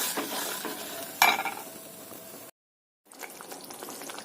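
Onion gravy bubbles and sizzles in a pan, and a spoon scrapes through it. A sharp clink sounds partway through, then a short silent gap, and the soft bubbling comes back.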